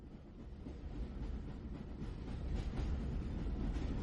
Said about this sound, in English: the rhythmic clacking of the wheels on the tracks